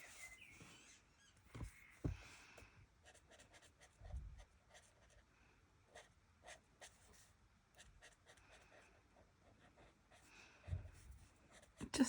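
Stampin' Up! watercolor pencils scratch and scribble across paper in short, irregular bursts, quiet and close, with pauses of near silence between strokes.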